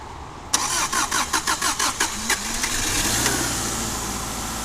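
A Subaru Outback with a newly installed engine cranks in a quick series of about seven rhythmic pulses, then catches and settles into a steady, fairly quiet idle nearby.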